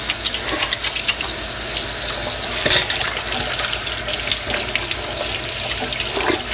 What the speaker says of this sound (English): Let me just give my hands a good quick wash.